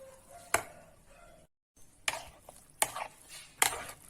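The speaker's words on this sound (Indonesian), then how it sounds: "Kita aduk sampai rata ya." Bread soaked in coconut milk is stirred for a pudding, giving a few sharp utensil knocks against the bowl between soft, wet mixing sounds, close and quiet, with a short silent gap.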